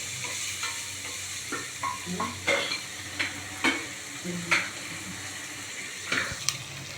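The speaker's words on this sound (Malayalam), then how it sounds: "എന്നിട്ട് നന്നായിട്ടൊന്ന് ഫ്രൈ ചെയ്യുക." Onions fry in a pan, a steady low sizzle under scattered stirring scrapes and clinks of a utensil, close by with no talking.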